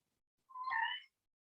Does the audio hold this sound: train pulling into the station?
no